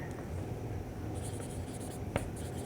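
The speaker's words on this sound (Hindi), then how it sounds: "यहाँ पर सबसे पहले लिखेंगे" Chalk or marker writing on a classroom board, faint scratchy strokes over a quiet room hum, with one sharper tap near the end and no talk.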